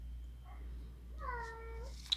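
A house cat meows several times in a row, close and fairly clear, each call a drawn-out tonal cry, with a brief click near the end and a quiet background.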